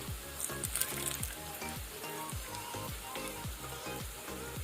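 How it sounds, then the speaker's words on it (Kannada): Raisins sizzle and fry in hot ghee in a pan for ghee rice, a steady close crackle with repeated stirring clatter, no voices. "ಅದನ್ನು ಸ್ವಲ್ಪ ಫ್ರೈ ಮಾಡ್ಕೊಳ್ಳುವ"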